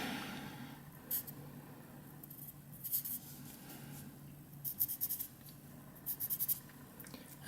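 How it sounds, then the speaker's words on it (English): A pen or pencil writes down a measurement on paper, with faint, close scratching strokes in short bursts separated by pauses in a quiet room. "I'll write that down."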